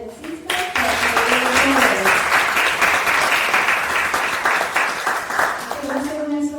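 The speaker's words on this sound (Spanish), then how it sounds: "Quiero pedirles un fuerte aplauso para nuestro conferencista." An audience at an academy lecture on General Porfirio Díaz applauds the speaker in a full, sustained round of clapping, with a voice speaking just before it swells and again as it fades.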